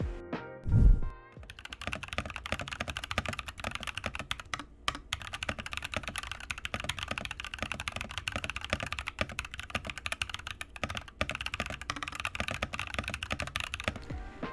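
Rapid, continuous clacking of an RK G68 mechanical keyboard with Cherry switches being typed on up close, after a brief low thump at the start; no voices.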